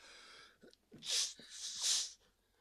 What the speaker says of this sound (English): That's a big sneeze.